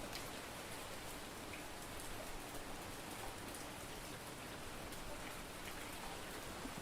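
Steady rain falls in a Polish fishing setting in Ultimate Fishing Simulator 2, a dense, even hiss of drops on surfaces that continues unbroken and fairly quiet, with no talk over it.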